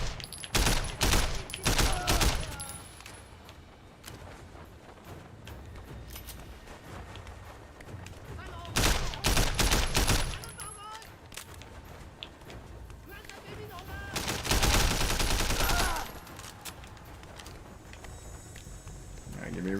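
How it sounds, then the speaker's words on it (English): Gunfire in the Sleeping Dogs video game, with several loud bursts of rapid shots breaking through between stretches of running, footsteps and other game noise, while someone talks over much of it. "I was shooting this thing for dear life"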